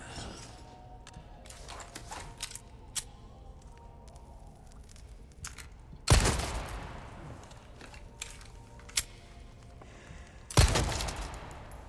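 Two loud pistol gunshots in Resident Evil 4 Remake, several seconds apart, ring out over scattered game clicks and small mechanical noises.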